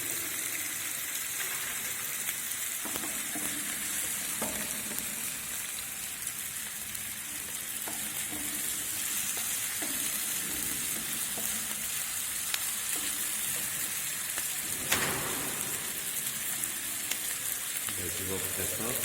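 Diced onions fry and are stirred in a pan during a food production practical, a steady broadband sizzle running throughout with occasional soft scraping strokes, close and moderately loud, with no talk over it.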